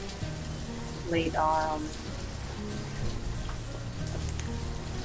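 Rain falls steadily on surfaces in the Banished 2 video game, a constant soft patter under a short spoken phrase and quiet background music tones.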